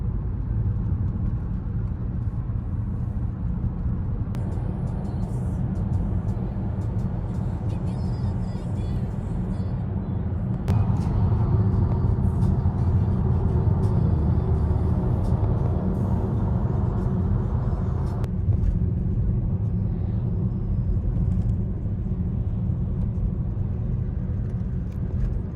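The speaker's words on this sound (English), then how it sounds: "Talk about traffic, it is looking rough as we are just about to head towards the airport." Steady road traffic rumble heard from inside a vehicle heading toward Manchester Airport, a continuous engine drone with passing noise swelling midway, loud and close, without talk.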